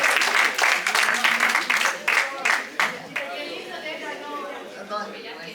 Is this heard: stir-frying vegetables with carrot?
no